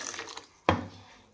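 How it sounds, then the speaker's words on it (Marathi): Water splashes briefly into a cooking pot holding a tempered drumstick amti, a single short pour with soft faint kitchen sounds before and after. "आणि आता आपण ह्याच्यामध्ये टाकलं पाणी."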